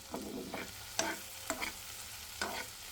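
Shrimp frying in ghee and mustard oil, stirred with a utensil: a steady sizzle under repeated sharp scraping strokes against the pan, close and moderately loud, no voices.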